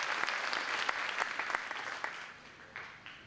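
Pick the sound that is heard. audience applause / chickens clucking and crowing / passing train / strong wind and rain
audience applause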